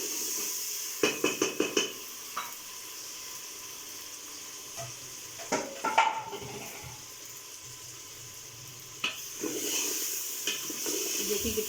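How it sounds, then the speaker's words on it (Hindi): Chopped tomatoes and finely cut green chillies fry in oil with chicken for daal chana gosht, giving a steady soft sizzle broken by clusters of close stirring and clinking taps. "अब हम ये बारीक कटी हुई सब मिर्च इसमें डाल देंगे। इसको भी हम ऑयल में फ्राई कर लेंगे अच्छे तरीके से।"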